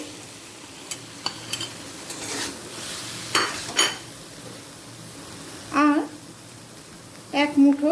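Chopped papaya is tipped onto potatoes and spices and stirred: scattered close clinks and scrapes over a low sizzle, with a person speaking briefly near the end.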